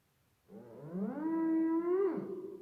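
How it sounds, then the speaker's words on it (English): A detuned, warbling homemade theremin tone with a little reverb rises from silence, holds a wobbly sustained pitch, then bends and dips, sounding eerie and somewhat howl-like. "So I'm going to detune it."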